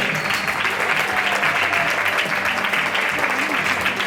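Steady, dense applause from a crowd fills the space as players are introduced at an indoor all-star women's table football event, continuous and loud without pause throughout.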